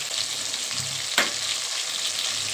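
Bhetki fish pieces fry in hot oil with a steady, close sizzle throughout, broken once by a brief sharp clatter partway through.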